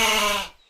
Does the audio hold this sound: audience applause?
no